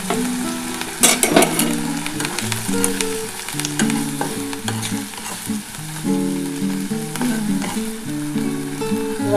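Radish greens fry in a pan as a little water is added, with a sharp hissing surge near the start that settles into steady close sizzling and stirring over a faint tonal melody in the background.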